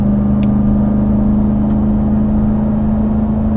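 A Ram 1500 TRX, a 6,800-pound pickup, in an aggressive all-wheel-drive launch: a loud, steady engine drone and deep rumble heard from inside the cabin.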